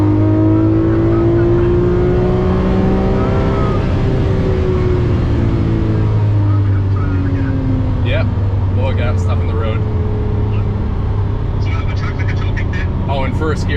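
A Lamborghini LP640 and a Tesla Model Y Performance in a drag race, a loud engine roaring and rising in pitch through the gears, steady and close, with voices talking over it toward the end.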